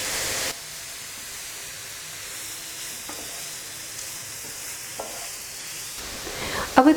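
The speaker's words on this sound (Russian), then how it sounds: "Хорошо перемешиваю, чтобы лук снизу не подгорал." Onion and grated carrot fry in vegetable oil in a pan for zucchini caviar, a soft steady hiss with occasional scraping stirs, faint and close, with a brief louder clatter at the end.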